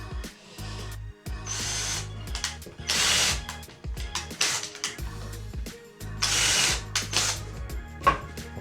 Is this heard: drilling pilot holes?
yes